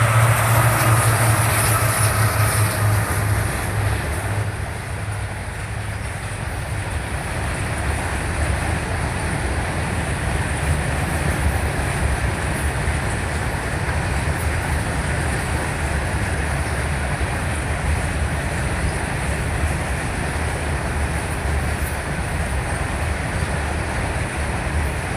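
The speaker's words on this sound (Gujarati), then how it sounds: "વહી ગઈ છે રેલગાડી માલગાડી હતી" A freight train passes a level crossing nearby, a loud continuous rumble and roar of wagons on rails that fills the whole stretch, with a faint horn at the start.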